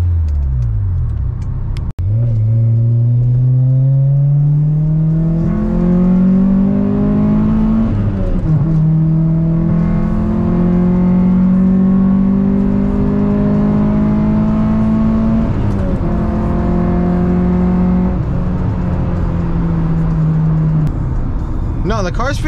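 A car driving after a power steering pump replacement, its engine loud and close, rising in pitch through several gear changes with brief dips between shifts, and a voice talking over the engine.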